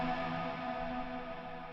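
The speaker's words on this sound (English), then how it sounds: "When I switch off the Plex delay, I can still continue to hear the tails of the reverb." A faint, sustained ambient tail from a Fractal guitar effects unit, reverb ringing on after the Plex delay is switched off, a smooth washy tone that slowly fades with no playing or talking.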